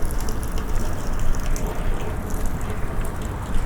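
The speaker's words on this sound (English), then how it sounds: "For some reason, there's water coming off of the ceiling or the roof." Water runs and patters steadily off a ceiling or roof during a nighttime stroll near a lake at Dobson Shores in Mesa, a continuous close splashing hiss with no talking.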